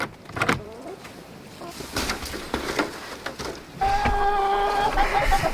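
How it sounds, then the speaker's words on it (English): Automatic doors on a chicken coop close with a motorized whine that starts near the end and holds steady, after scattered knocks and faint clucking. "then I'll close the automatic doors"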